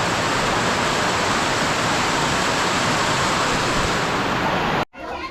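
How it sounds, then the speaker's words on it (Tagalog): Steady, dense rush of rain dripping from a roof, loud and continuous, that cuts off abruptly just before the end. "Tapos yung tulo ng ulan."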